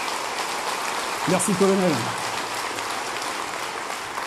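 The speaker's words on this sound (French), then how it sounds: "vous pouvez les applaudir" Audience applause for the gendarmerie and firefighters at a mayor's New Year's wishes ceremony in Mandelieu-La Napoule, a soft, steady rain-like patter of clapping, with a brief spoken voice near the middle.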